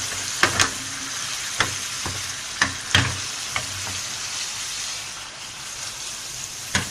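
Besan kofta curry roasting in a pan, with a constant close sizzle broken by sharp clicks and knocks as the pan is shaken and handled; no talking.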